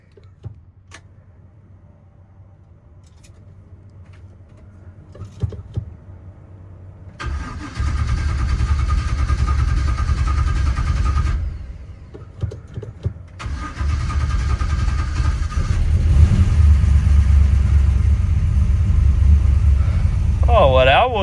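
An old car engine cranks and catches in a shop, settling into a loud rumbling idle with a couple of revs, a brief dip midway, and voices talking over it near the end.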